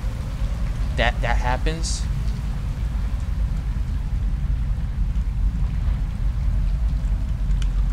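Steady rain hiss from the video game Rain World, a constant low wash under a player's brief spoken comments near the start.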